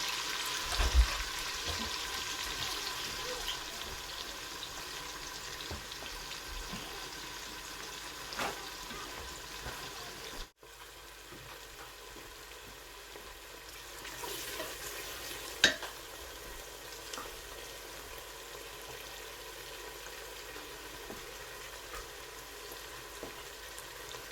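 Oil sizzles and fries steadily in a pan while the base for Nigerian efo riro spinach soup cooks ahead of the blended tomatoes, with a continuous close crackle, occasional stirring clinks and a brief drop in the middle.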